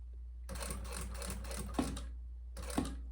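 A sewing machine stitches through plastic in two bursts of rapid mechanical clatter, the first longer, separated by a short pause over a steady low hum, with a sharp click near the end of each burst.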